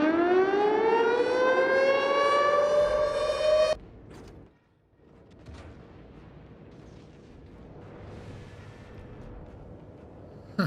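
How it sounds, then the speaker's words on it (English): A warning siren from the naval combat game World of Warships wails loud and steady, its pitch climbing for several seconds before cutting off abruptly into a quieter rumble of distant battle noise. "I just love the siren sound effect."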